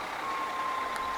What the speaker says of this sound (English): A beeping sound could be heard near me.